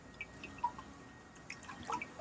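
Water drips inside a 1992 Subaru WRX, a few faint, sparse plinks at an irregular pace, close by in an otherwise quiet space.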